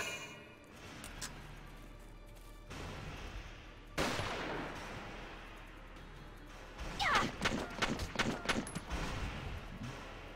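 Gunfire rattles in the Valkyria Chronicles video game, with a sharp burst of shots followed by a rapid string of cracks toward the end, fairly faint overall.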